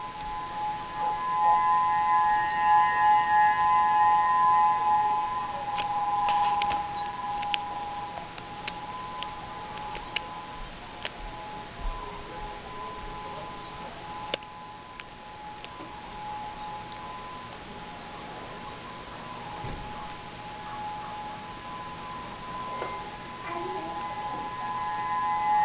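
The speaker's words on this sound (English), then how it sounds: "That siren's about 15 miles away." A tsunami warning siren wails from about 15 miles away in Oceanview, Hawaii, its faint steady tones drifting under fogged-in outdoor ambience with scattered small clicks and knocks nearby.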